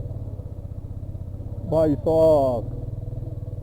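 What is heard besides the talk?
motorbike engine climbing a steep mountain road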